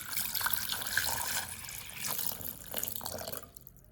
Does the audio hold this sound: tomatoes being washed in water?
yes